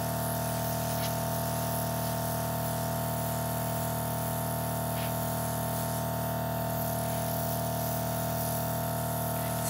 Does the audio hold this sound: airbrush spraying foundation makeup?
yes